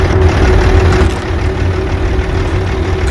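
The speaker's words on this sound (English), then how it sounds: "that engine is loud" A ship's engine in the video game Ships at Sea drones loudly and steadily, a heavy low rumble with a constant hum that fills the whole stretch without pause.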